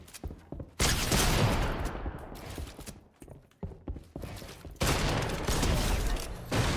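Bursts of gunfire in the video game Fortnite, several loud volleys with short gaps between them, dense and close, with no talk over them.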